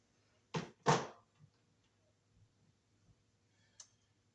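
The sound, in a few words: stripping electrical wires with wire strippers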